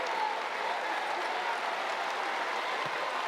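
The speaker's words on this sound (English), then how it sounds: "a well-deserved round of applause for Themis Fulks" An arena crowd at a college basketball game applauds a player, a steady wash of clapping and crowd noise heard from a distance, faint and sustained throughout.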